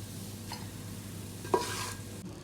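Meat for degi aloo gosht fries in hot oil in a pot, a soft steady sizzle with a couple of brief stirring scrapes and clinks, quiet and without talking.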